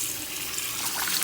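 Warm water runs steadily from a tap while mushrooms soak, a continuous even hiss of flow with no voices over it.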